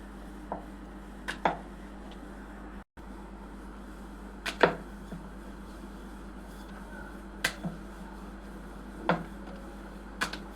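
Chapati dough for dal dhokli being rolled out with a rolling pin, leaving sparse, sharp clicks and taps against the board every second or two over a quiet background.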